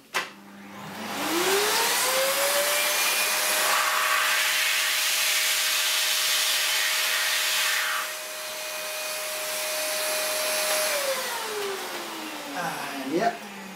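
A shop vacuum sucks air through the tube of a Specialized S-Works SL5 bike frame to pull a cable thread, rising in pitch to a steady, loud whine for about ten seconds and then winding down.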